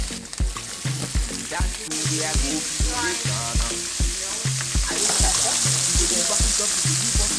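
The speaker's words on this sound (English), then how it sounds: "So I'm just gonna put my bacon. I actually got a lean one. So I might just put a tiny bit of oil." Lean bacon fries in a little oil with a steady close sizzle while utensils knock and scrape at the pan in a regular rhythm, the hiss growing brighter partway through.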